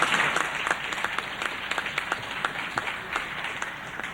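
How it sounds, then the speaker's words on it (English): Steady audience applause in a hall at a 1991 Canadian legal proceedings event, many hands clapping together at a moderate distance, continuous and even throughout with no speech over it. "I'd like to say we owe them a round of applause right now for what they've done"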